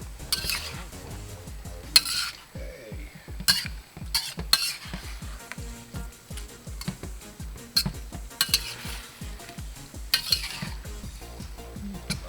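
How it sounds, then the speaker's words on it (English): Pork lo mein noodles being lightly tossed in a stir-fry pan, with steady sizzling under repeated metal clanks and scrapes of a utensil against the pan, close and uneven in rhythm. "We just want to lightly toss them in there."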